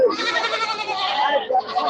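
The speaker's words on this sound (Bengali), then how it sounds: "এখন কি পরিমাণ ছাগল উঠছে আমাদের রোববারের হাটে হাজার হাজার সব ছাগল আছে" Goats at a large Sunday livestock market, a loud wavering bleat close by filling nearly the whole moment, followed by a shorter second cry.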